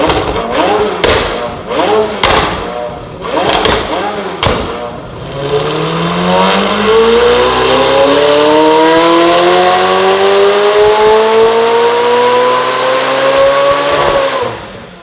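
A stock-turbo McLaren 720S tuned to about 1400 hp, on a dyno. A few sharp blips come first, then one long rev that climbs steadily at full load for about ten seconds, loud and close, with no talking.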